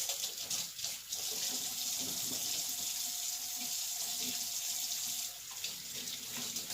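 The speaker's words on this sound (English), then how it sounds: "I'm going to wash my hands over here at my sink." Hands washed under a running sink tap, a steady close stream of water splashing into the basin for several seconds, easing slightly near the end, with no talking.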